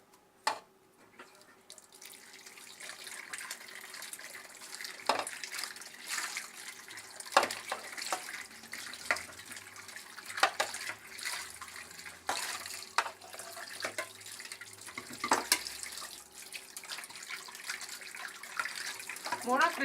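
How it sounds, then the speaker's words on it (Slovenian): Tap water runs steadily into a sink while a blind person rinses dishes, with clinks and knocks of crockery and scattered splashes, close by, under occasional talk. "Sklečko okrog obrnem, jo pomijem tudi zunaj in potem jo splaknem."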